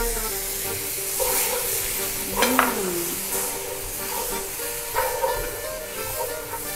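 Tomato and spices (chili powder, coriander, garam masala) sizzle and fry in a pot, a continuous loud hiss broken by a few brief scraping stirs.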